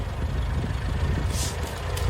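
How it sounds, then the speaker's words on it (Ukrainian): Old 1918 Ford tractor engine running, a low steady rumbling idle heard close and alone over a couple of seconds. "Трактор Ford 1918 року випуску."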